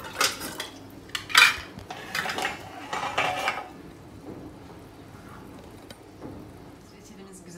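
Hot homemade fig jam is ladled from a pot into glass jars. Close, bright clinks and scrapes of the ladle against the pot and jar rims ring out over a soft, steady background hiss.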